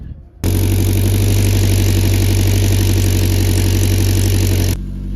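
A Cosworth car engine idles steadily and loudly at close range, a deep, even throb with a fine ticking pulse, starting abruptly after a brief lull and cutting off near the end.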